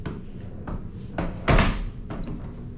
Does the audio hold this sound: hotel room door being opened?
yes